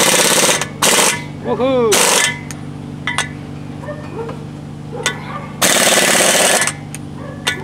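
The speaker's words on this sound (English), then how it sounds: "I'm going to see if my air impact wrench can break these free." An air impact wrench hammers on brake rotor bolts of a Workhorse W22 in three loud, rapid ratcheting bursts, one short and one long, separated by quieter shop noise and a brief excited shout.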